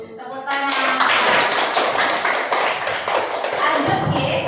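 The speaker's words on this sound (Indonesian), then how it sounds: "Ibu, tepuk tangan." Group of people clapping hands together in a school classroom, starting abruptly after a brief moment of quiet and continuing as a dense, steady round of applause.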